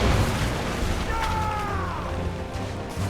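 Naval cannon fire and explosions from a Royal Navy gunboat in the game Assassin's Creed Rogue: a dense, rumbling boom with a crashing burst near the middle, heavy low roar throughout, with faint voices mixed in.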